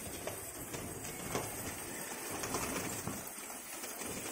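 At a rooftop loft during a pigeon-fighting contest, pigeons flutter and coo faintly, soft wingbeats and scattered bird sounds over a steady, low background.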